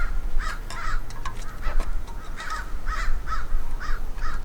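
Crows keep cawing close by outdoors near an old 1980 Ford F-350 service truck under repair, loud rasping calls spaced in steady pairs and threes over faint low rumble.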